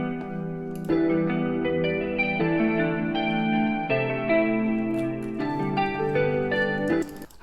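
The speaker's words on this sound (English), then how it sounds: "We put reverb on all of the fucking guitars, and then we put a echo boy on top of that with the ambient echoes." Guitar chords ring out with reverb and a washing ambient echo laid over them, in a slow, sustained phrase at moderate volume with no voices.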